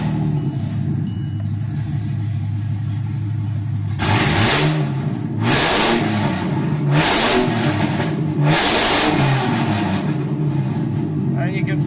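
A car engine with its exhaust disconnected revs hard four times in loud, rough bursts, each roar rising and falling over a steady idle rumble, with no one talking.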